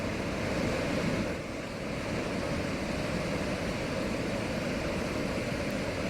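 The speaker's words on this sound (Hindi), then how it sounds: "कांके डैम से छोड़ा जा रहा पानी का शोर" Water released through the open gates of Kanke Dam rushes in a steady, dense roar that stays loud and continuous throughout with no voices.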